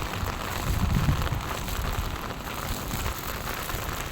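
Steady rain falls outdoors on a wet street where floodwater is collecting, a continuous even hiss of drops with a slightly heavier patch of patter early on, close and unbroken throughout.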